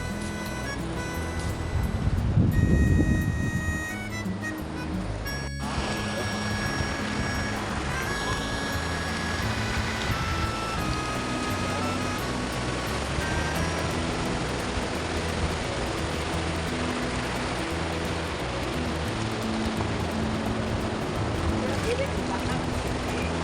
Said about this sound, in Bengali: আর এই সমুদ্রের আওয়াজটাই তো বেশ ভালো লাগে